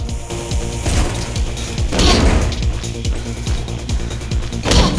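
Gunfire in the Mirror's Edge video game, set in the financial district: loud bursts of shots crack repeatedly over a dense, rumbling game soundscape, with no talking.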